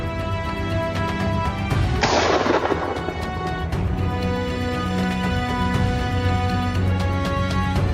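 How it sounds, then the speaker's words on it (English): One loud gunshot while hunting a wild boar in a forest, a heavy boom that rings on briefly over constant dense background sound, likely music. "Quickly, Noelland took aim and successfully killed it with one shot."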